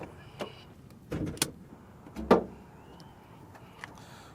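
The hood of a 2024 Nissan Z Nismo is popped open: a few short mechanical clunks and a latch thunk, close and fairly quiet, followed by a sharp release click and a faint final tap.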